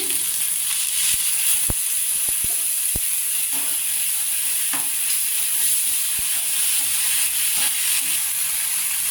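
Chicken curry masala cooks down in a pan with a constant hissing sizzle, punctuated by sharp spoon taps and scrapes against the metal at irregular intervals.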